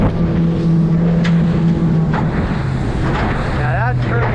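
Fischer 1850 boat with a Yamaha F115 outboard running fast on open water, a steady loud engine drone with hull and water rush and wind buffeting, one voice briefly audible over it.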